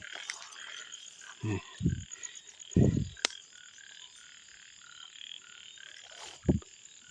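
Frogs croak at night in a rural Thai village, with a few short, punchy croaks in a loose cluster and one more after a pause, close by over a steady high hum of insects.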